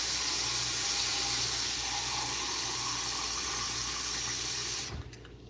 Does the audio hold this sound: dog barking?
no